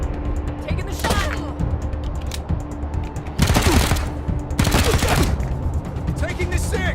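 Gunfire in the video game Wasteland 3: bursts of shots in two loud clusters, each lasting around a second, over a busy game soundscape with voices and background effects.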